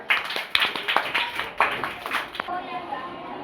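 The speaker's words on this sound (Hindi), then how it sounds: "जोरदार तालियां" Applause for a correct answer in a children's quiz show, a handful of sharp, uneven claps from a small audience with voices talking over them, fading out after about two and a half seconds.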